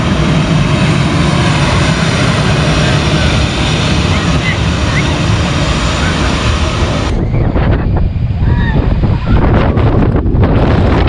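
A plane comes in to land at Skiathos airport over a beach by the sea, its roar loud and blended with heavy wind buffeting and surf, the engine noise easing off toward the end while people talk nearby.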